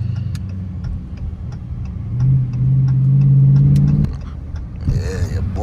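A 2023 RT cruising through city streets, its engine a low steady rumble that swells into a stronger drone midway before easing off, with ticking clicks throughout and a voice speaking briefly near the end.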